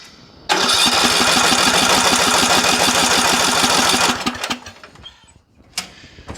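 A Briggs and Stratton small engine with a Nikki carburetor, choke applied, catches and runs in a loud, close, rapid steady chug for about four seconds, then cuts out, leaving a few clicks and rattles.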